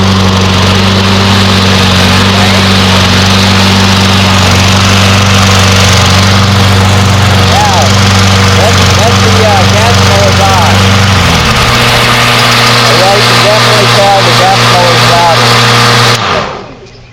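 A Black & Decker cordless battery-powered electric lawn mower runs steadily and loud up close with a constant motor whine, then the pitch drops partway through before it cuts off near the end.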